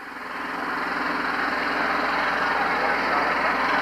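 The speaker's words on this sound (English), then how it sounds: "there's a little garden tractor in there, and you can hear it in the background." A small garden tractor engine runs during a 1976 bicentennial town parade in Beavertown, a steady droning motor hum that holds loud and constant, close by, with no talk over it.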